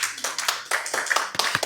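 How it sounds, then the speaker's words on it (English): Scattered, uneven clapping from a small audience at a town-square talk event, individual hand claps distinct and irregular rather than a full wash of applause. "Please clap for me"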